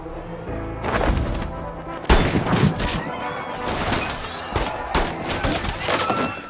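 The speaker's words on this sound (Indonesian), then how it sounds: "baku tembak pun tak terhindarkan" Film shootout gunfire: dense, loud volleys of rapid shots and sharp cracks in bursts, with a heavy impact boom partway through, filling the scene without speech.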